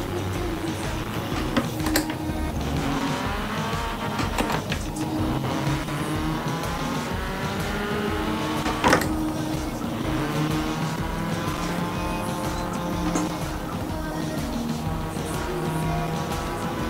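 A car engine in the Forza Horizon racing game, played on a Logitech G29 wheel, drones and revs as it downshifts, with pitch sweeping up and down and a faint tire squeal, steady and close.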